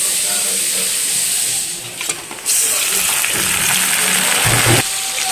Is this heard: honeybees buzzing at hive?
no